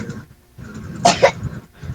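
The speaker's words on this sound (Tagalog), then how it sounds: "Inuubo yung anak niyo, sir" Child coughing twice in quick succession, two short harsh bursts close by, set against a quiet room with faint background murmur.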